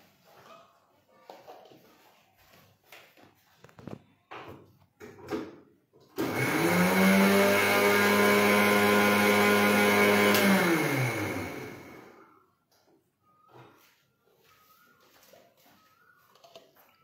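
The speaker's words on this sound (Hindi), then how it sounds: "और मिक्सी में ग्राइंड करती हूँ।" A kitchen mixer grinder blends butterfly pea juice with Amul milk for thandai. A loud, steady whirring roar runs for about six seconds in the middle, with quieter stretches before and after.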